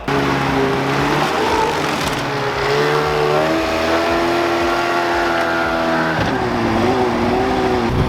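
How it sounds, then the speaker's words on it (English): A truck pulls up close by, its engine droning steadily with shifting revs and a rough low rumble throughout, no voices over it. "I just heard Jinwon pull up, which is perfect timing"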